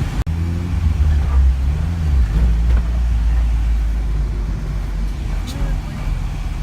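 An old 1980s car with a worn transmission drives along with a steady, low engine rumble and road noise, heard from inside the car while people talk.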